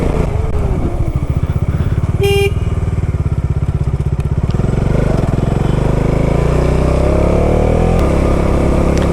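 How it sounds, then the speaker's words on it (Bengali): Motorcycle engine running steadily on a rainy hill road, a loud continuous rumble with engine note rising and shifting as it climbs, a brief high beep partway through, no talk. "তোমরা শুধু গাড়ির আওয়াজ শুনতে পারছো"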